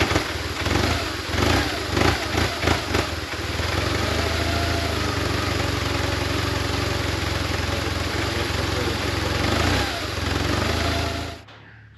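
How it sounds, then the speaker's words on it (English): A cold BMW GS1150 motorcycle engine struggling to run: a few uneven, sputtering revs at first, then a rough, loud, steady idle close by that cuts out at the end. "The engine is struggling to run."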